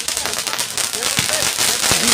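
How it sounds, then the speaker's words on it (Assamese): Firecrackers crackle and pop at a Ras Puja festival fair. The crackers sound damp and weak, giving scattered sharp bursts under the noise of a busy crowd, with voices talking nearby. "যিবিলাক বম ফুটাই আছে বোমাগিলা"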